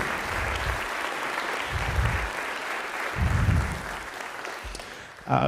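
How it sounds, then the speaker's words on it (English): Steady audience applause at a symphonic band concert, honoring the student players; dense clapping fills the room evenly with a few low thumps, ending in a sharp louder burst. "let's give another round of applause to them in particular for the work that they've done"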